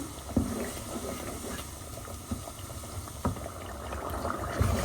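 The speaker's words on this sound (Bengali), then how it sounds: "এখানে মশলা কষানোর জন্য একটু পানি দিলাম" Spice paste with a little water added cooks in a pan, giving a soft continuous bubbling sizzle close by, with a few faint knocks scattered through.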